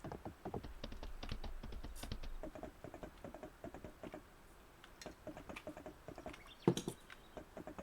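Steady patter of rain in the video game Fields of Mistria, with many small irregular taps, fairly soft and continuous, no voices.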